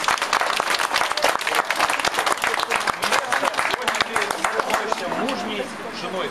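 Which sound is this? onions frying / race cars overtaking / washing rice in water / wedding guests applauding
wedding guests applauding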